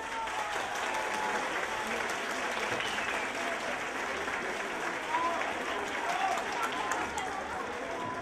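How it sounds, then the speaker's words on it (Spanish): Graduating high school students get a sustained, even wash of applause from families at a graduation ceremony, steady and moderately distant, filling the whole stretch without a break. "démosle un aplauso a los bachilleres"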